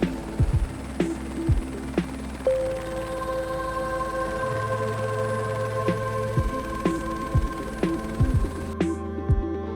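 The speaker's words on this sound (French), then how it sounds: "Allez, décollage! On prend de l'altitude et hop, direction l'ouest" A helicopter taking off and climbing over Réunion Island near Saint-Denis, heard as a steady engine drone with rhythmic rotor thumps and a shifting whine, fairly loud and continuous, with no talk.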